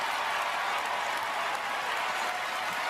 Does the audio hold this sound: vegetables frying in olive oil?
no